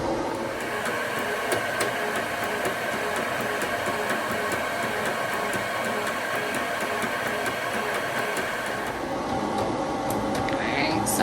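A Ricoh Ri1000 DTG printer prints color onto a shirt, giving a steady mechanical hum with a regular ticking pulse from the moving print head that carries on evenly before easing off near the end.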